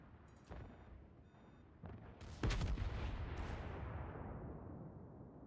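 Naval guns fire in World of Warships Legends: a sharp report, then a heavier booming salvo with a long rumbling decay, heard alone without talk.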